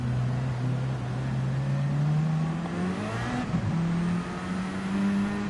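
A race car engine in a racing video game at Fuji holds a steady droning pitch that climbs gradually, dips briefly at a shift and settles again, loud and continuous with no talk.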